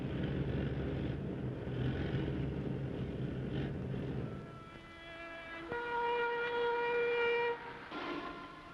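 A freight train rolls along the rails in cold, sub-zero weather, a steady low rumble for the first half, then giving way to sustained tonal squeals and whistle-like wheel screeches, fairly distant, with no voices.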